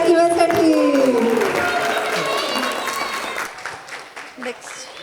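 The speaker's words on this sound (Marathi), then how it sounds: "एकदम जोरदार टाळ्या" Applause from a crowd at a wedding sangeet ceremony, a dense patter of clapping that is loudest at first and gradually thins out, heard with voices talking over it.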